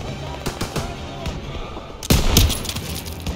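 Suppressive gunfire in a Call of Duty World War II battle against a heavy German force: steady bursts of automatic fire and scattered shots, with a louder, denser volley partway through, under the background din of combat.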